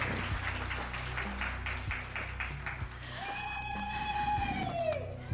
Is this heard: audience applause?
yes